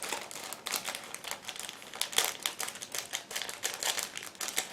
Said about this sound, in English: Let's go for the next plastic bag. Again, 2 sprues packed in it.